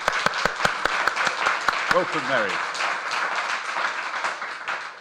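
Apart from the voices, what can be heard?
applause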